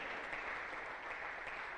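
A church congregation applauds during a sermon, a steady, fairly faint patter of many hands clapping for nearly two seconds.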